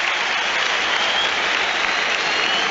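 A stadium crowd at an Everton versus Chelsea Premier League match applauds steadily, a dense, even wash of clapping that holds at the same loudness throughout.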